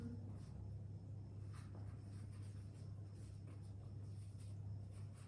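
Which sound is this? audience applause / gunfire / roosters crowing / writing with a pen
writing with a pen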